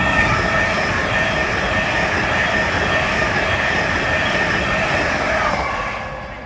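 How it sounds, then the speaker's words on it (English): LNER Azuma train arriving at a Doncaster station platform: a loud sustained rumble and rolling hiss of carriages passing close, with faint wheel squeal, easing off at the end as it slows. "The next train to arrive at platform 1 will be the 12:19 LNER Azuma service to London."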